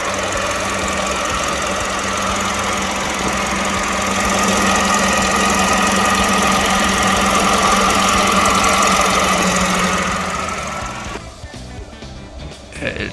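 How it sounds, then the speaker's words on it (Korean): A Hyundai LF Sonata LPI car engine idles with a steady, even hum and a faint knocking texture, fairly close and continuous for most of the clip before it drops away near the end. "엔진 소리 상당히 괜찮습니다"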